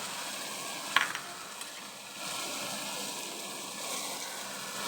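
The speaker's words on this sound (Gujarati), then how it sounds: "હિંગ ચપટી નાખી ને કેરી વઘાર દેશું" Raw mango tempering with a pinch of asafoetida sizzles quietly in hot oil in an Indian kitchen, a soft steady frying hiss with a brief crackle near the start.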